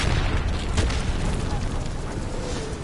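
Mortar fire explosions in a video game: a continuous heavy rumble of booms and bursts, loud and close, filling the whole stretch with dense low-end roar.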